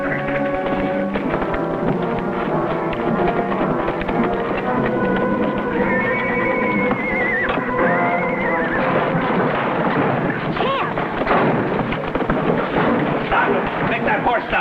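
A horse named Champion gallops with rapid hoofbeats and lets out a high neigh, in a 1950s TV Western scene with shouting voices and music layered over the action.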